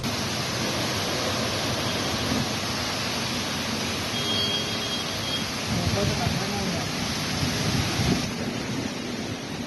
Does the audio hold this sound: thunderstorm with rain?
yes